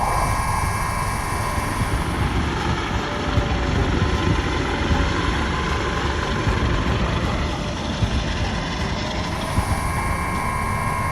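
A Dauphin helicopter on a mountain rescue flight gives a loud, steady roar of engine and rotor that holds unbroken close to the mic.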